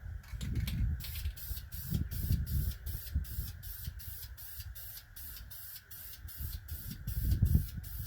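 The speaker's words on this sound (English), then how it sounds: "Make sure you spray paint your fingers too." Short hissing bursts of spray paint repeat in a rapid rhythm, close by, with low handling noises underneath.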